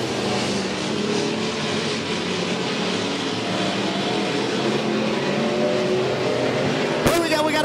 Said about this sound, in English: Race fans down the front straightaway. Tim Kilby to the inside. Justin Turner to the outside